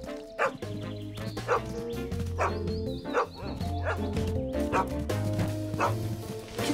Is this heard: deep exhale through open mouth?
no